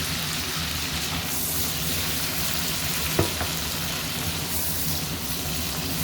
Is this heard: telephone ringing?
no